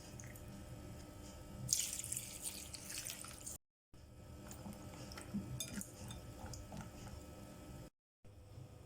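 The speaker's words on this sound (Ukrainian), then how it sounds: "Заливаємо холодною водою і залишаємо на 10-15 хвилин." Cold tap water runs steadily into a bowl of dried white mushrooms, a continuous splashing stream with a brief louder gush, cut off twice by short silent gaps, with faint clinks of kitchenware.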